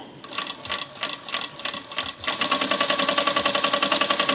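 A Vevor industrial sewing machine stitches in short, rapid mechanical bursts with pauses between them, then runs continuously at a steady, comfortable speed, a close, loud, rhythmic whirring chatter with no voices over it.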